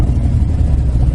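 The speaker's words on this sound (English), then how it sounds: "I'll wait till this car goes through." Car passing on a road near a gas station, a loud, close, low engine rumble that fills the brief moment.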